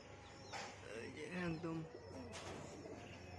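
Giribaj pigeons cooing softly and close by, a few throaty warbling calls over faint background noise and a low hum.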